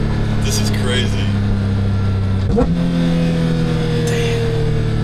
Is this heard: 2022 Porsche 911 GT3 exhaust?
yes